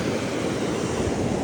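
Sea waves wash continuously onto Devka Beach in Daman on a morning: a loud, dense, unbroken surf roar with some wind buffeting the microphone.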